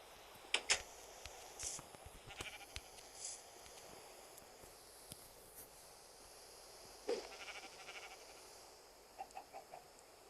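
Sheep bleating in Minecraft on an island survival farm, several short scattered calls at moderate volume over a busy game background, with no talk.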